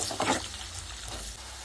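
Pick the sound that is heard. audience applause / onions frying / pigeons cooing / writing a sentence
onions frying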